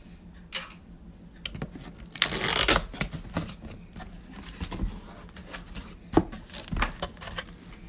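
A cardboard box of Stranger Things Coca-Cola is opened by hand, with close scraping, rustling and tearing, a burst of ripping midway and scattered taps and knocks.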